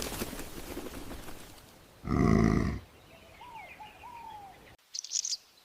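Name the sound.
honeyguide bird chattering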